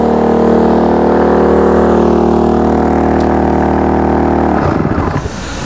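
A petrol generator engine, a Daewoo Matiz engine, drones steadily with a strong low hum and harmonics, then cuts off abruptly near the end, leaving only faint background noise.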